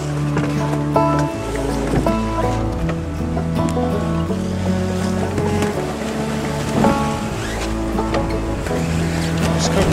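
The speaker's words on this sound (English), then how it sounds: "We've got quite a big swell running under us." A sailing yacht rides a big sea swell off the Scottish coast, with a constant rush of water and wind around the hull and steady low rumbling sounds, loud and close. Voices are faint in the background.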